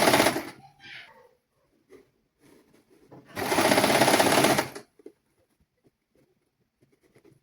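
A sewing machine stitching a child's sun suit whirs in two close bursts, a short one at first and then a longer steady run. Quiet pauses and faint handling noises separate them.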